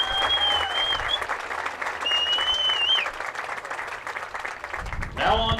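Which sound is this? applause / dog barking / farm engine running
applause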